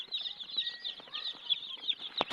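Many Tiger-breed chicken chicks on a Jessore farm peep continuously in shrill, overlapping cheeps, close by and fairly loud.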